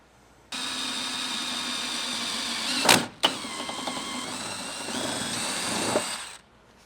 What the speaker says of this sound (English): You are gonna have to drill through the plastic fender flare and the metal fender.